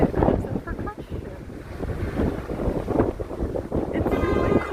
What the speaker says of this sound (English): It's really cold today and very windy